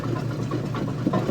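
A petrol-engined cement mixer runs at high revs, a steady loud mechanical drone with engine knock and rattle throughout, close by and without talk.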